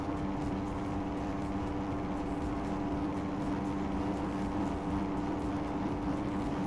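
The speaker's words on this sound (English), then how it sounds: "Oh god, why am I revving up already?" A motorcycle engine drones steadily in a supercross racing video game, a continuous, even, mid-loud hum with no distinct revs or pauses.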